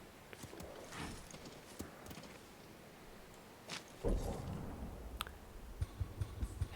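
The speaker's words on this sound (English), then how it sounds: "Jeez, horse, calm down." A horse in the video game Ghost of Tsushima clip-clops along with quiet, scattered hoof clicks, then a louder breathy snort or shuffle partway through, followed by more faint hoofbeats.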